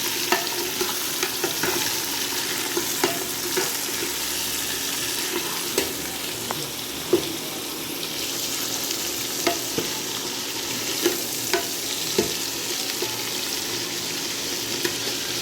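Tomato, potato, onion and ginger fry in a pan with garlic for kadhi, a continuous soft sizzle with scattered small pops and stirring clicks, moderately quiet and steady with no voices.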